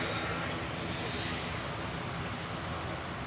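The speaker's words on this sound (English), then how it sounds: "Lufthansa 2500 from Munich's just arrived. 19-year-old A319" Lufthansa Airbus A319, nineteen years old, arriving from Munich at Manchester Airport, heard as a steady, loud broadband jet roar with a bright upper hiss, continuous and without talk over it.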